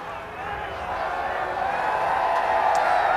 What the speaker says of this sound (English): You hear that cheering